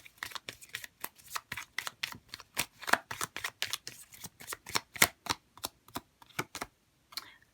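Tarot cards are shuffled in a rapid, crisp series of riffling snaps and slaps, close and clear, with no talking.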